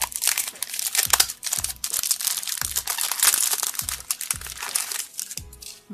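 InviZimals trading card foil packets being torn open and handled, a steady run of loud, close crinkling and crumpling with sharp tearing bursts and no talk.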